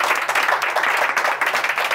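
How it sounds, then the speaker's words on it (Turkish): An audience applauds a guest on a talk show: continuous, dense clapping from many hands, fairly loud and steady throughout. "Alkışlar gelsin. Gökhan Çınar'a"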